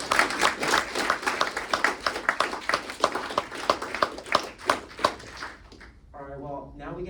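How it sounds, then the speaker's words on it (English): A keynote crowd at a Space Apps Seattle event gives a round of applause, dense clapping with distinct individual claps near the mic, fading out abruptly near the end. "Can we get another round of applause?"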